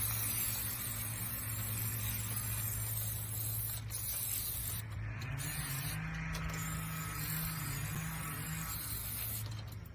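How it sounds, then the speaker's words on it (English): Yellow spray paint hissing from an aerosol can onto a metal hanging plant holder, a steady continuous spray across the whole stretch with a low hum underneath and a few brief gaps. "yellow spray paint"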